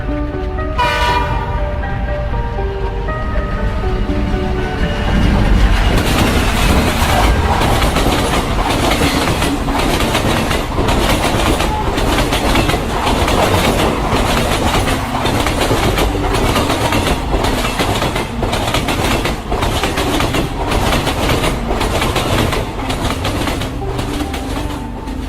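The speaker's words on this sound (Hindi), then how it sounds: "गुल्ली कहता है देखो सोन किसी ट्रेन की आवाज सुनाई दे रही है" A train roars through a station without stopping, opening with a horn blast and then a long, loud, steady rumble and rhythmic clatter of wheels close by.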